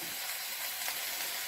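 Herbs and onions sizzling in a pan on full heat, a steady, even hiss of frying with no voices.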